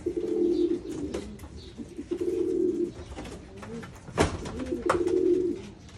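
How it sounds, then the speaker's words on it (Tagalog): Pigeons hatched from eggs brought from Japan coo in repeated low, throaty phrases with short pauses between them, close and clear, with a few soft knocks and rustles in the background. "Ayun, kalapati na."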